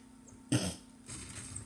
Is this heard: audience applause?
no